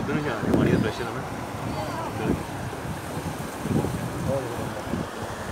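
Strong, forceful water of the Ravi River in Punjab, Pakistan, a dense rushing roar buffeted by wind on the microphone, with people shouting over it.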